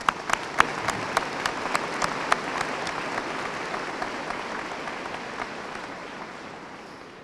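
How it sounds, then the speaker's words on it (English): A high school graduation crowd gives sustained applause that starts with a few sharp claps, swells into dense clapping and then gradually fades. "Round of applause."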